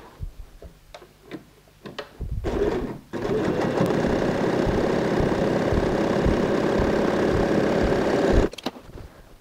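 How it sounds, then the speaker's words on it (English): A sewing machine stitches a fabric strip onto a handbag in one steady, loud continuous run of several seconds after a few brief clicks and handling noises. "Now I'm going to go and sew this strip of fabric."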